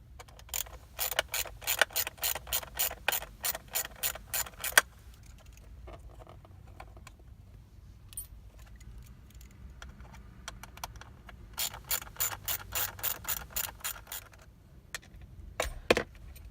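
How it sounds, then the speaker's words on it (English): Rapid ratcheting clicks from a hand tool backing out four T15 screws from an air bag steering wheel on a 2007-2013 GM truck or SUV, in two close bursts separated by a quiet pause. "the next step is to take these 4 T15 screws out"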